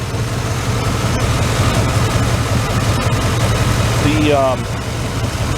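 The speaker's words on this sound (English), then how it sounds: "engine shakes a little bit from the camshaft. It's a comp cam, computer controlled." A 1995 Chevrolet Tahoe with a new engine and a Comp cam idles with a steady, low, slightly lumpy rumble, close and loud, with a brief voice near the end.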